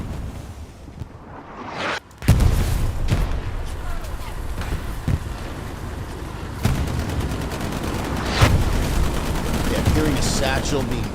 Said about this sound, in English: Tanks are engaging.